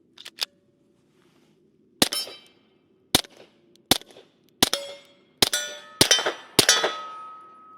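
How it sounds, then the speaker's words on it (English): Subsonic rounds fired from a Lunar 9 pistol outdoors, a series of sharp metallic cracks, two quick early shots then about six more at roughly one-second intervals, loud and close with brief ringing tails and no talk. "them was some subsonic rounds there"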